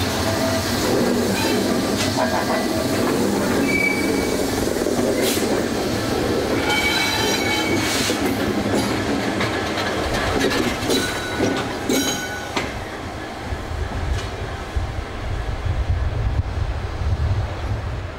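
Freight train on the UK main line hauled by a Class 66 diesel locomotive, a steady loud rumble of wagons rolling past with clattering wheels and brief metallic squeals, no voices.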